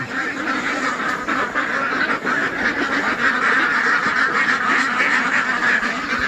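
A flock of farm ducks being herded in for the night keeps up a dense, loud, continuous quacking chorus close by, with no pauses.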